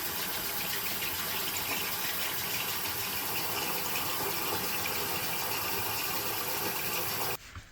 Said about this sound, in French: Alors, 10 minutes plus tard, je viens rincer mon visage.